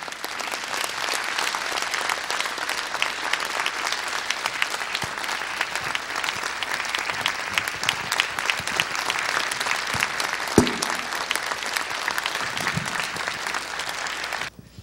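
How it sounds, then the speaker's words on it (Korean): A church congregation on its feet gives a long, steady round of applause for a visiting pastor, dense clapping from many hands held at an even level throughout with no talk over it. "다 기립하셔서 우리 큰 박수로 환영하겠습니다."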